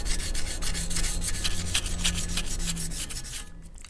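Steady scraping and rasping of hand sanding as peeling paint is feathered down on a custom 26-inch Forgiato wheel, with short rhythmic strokes heard up close and alone.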